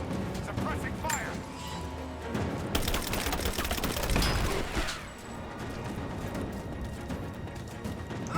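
Rapid bursts of suppressing gunfire in Rise of the Tomb Raider, a dense clattering volley peaking midway amid shouts and talking voices, with surrounding combat clatter before and after.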